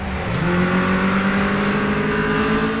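A car engine in a video game revs steadily with a rising, whining tone, loud and continuous, with no voices over it.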